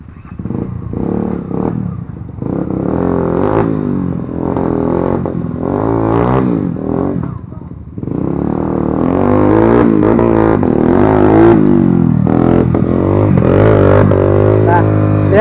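A Yamaha XTZ125 trail motorcycle with a cracked engine on a Bukidnon trail: loud, close engine revving that rises and falls in pitch, with clattering mechanical noise and a brief dip partway through.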